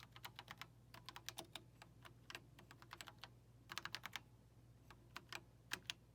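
Quick bursts of key clicks from an Apple II computer keyboard, typed in short irregular runs with brief pauses, close and fairly quiet with no talking.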